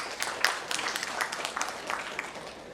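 Audience applause for the panelists at a conference panel session, moderate clapping from a seated crowd, fairly even and somewhat distant, lasting a few seconds.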